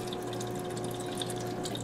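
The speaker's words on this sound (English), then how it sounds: "So this is now filling with water." Water runs steadily into a countertop ice maker's reservoir, a constant close trickle and hiss with a faint motor hum beneath, no voices.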